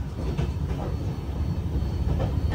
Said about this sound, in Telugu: జమ్మూ స్టేషన్ కి అయితే దగ్గర అవుతుంది మన ట్రైన్